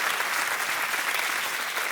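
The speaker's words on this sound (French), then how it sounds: "Est-ce qu'on peut applaudir le Seigneur?" A church congregation claps together during a special worship celebration: dense, even applause that is close and loud throughout, with no voices standing out.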